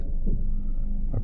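A 2020 Ford Escape with the 1.5L engine and an AWD service fault runs with a steady, close, low engine rumble at idle, with no talking.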